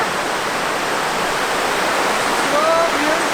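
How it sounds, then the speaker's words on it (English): A river beside a woodland campsite rushes in a constant, loud, broadband wash with no breaks, close to the listener. "And we do have a river just right here."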